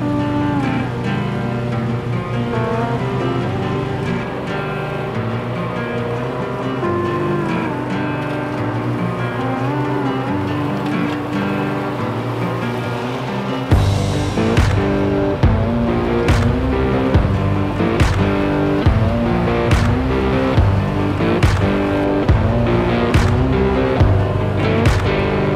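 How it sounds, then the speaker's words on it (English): An Exmark mower cutting grass along property trails, a loud continuous engine drone close by that grows harsher and busier halfway through as it bites into the growth. "I'm using this Exmark mower to mow the trails."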